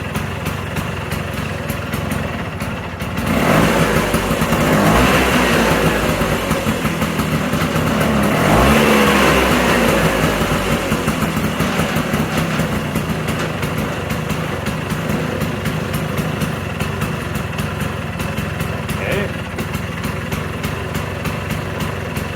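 A 1979 Vespa scooter engine with a newly fitted cylinder and rings runs during break-in, a buzzy small-engine drone that rises in revs twice before settling back to a steady run, loud and close with no talking.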